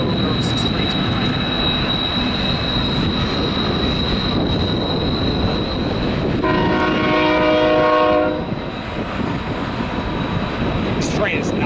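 A train rumbles close by in Tehachapi with a steady roar, and a loud horn blast sounds for a couple of seconds midway.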